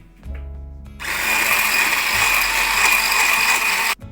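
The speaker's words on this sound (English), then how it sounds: "Add butter and keep whisking." An electric mixer whisks batter with butter for a chocolate log cake, a loud steady mechanical whir that starts after a brief clatter, runs for about three seconds and then stops abruptly.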